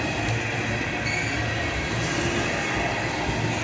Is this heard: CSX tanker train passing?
yes